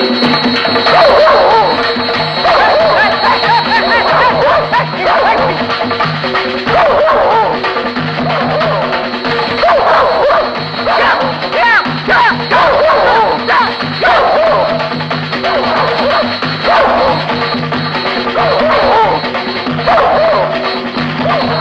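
Several dogs bark and yip repeatedly in a loud, busy outdoor scene from a Telugu comedy film. The barking continues without letup over a steady background din.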